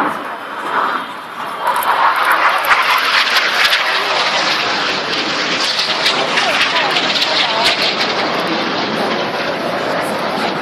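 Red Arrows jets perform a flying display at the Farnborough Airshow 2014, producing a sustained broad roar that swells and holds, heard from the crowd while an announcer's commentary runs over it.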